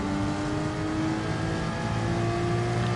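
Race car engines in a GT Sport esports race roar steadily at high revs, a dense, continuous drone with whining harmonics. The car runs close in the slipstream of a Jaguar, and there is no talk.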